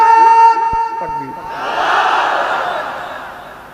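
A crowd at a Bangladeshi waz religious gathering answers a call with a loud collective Allahu Akbar takbir chant, a broad swelling roar of many voices that rises after a lead voice and then slowly fades.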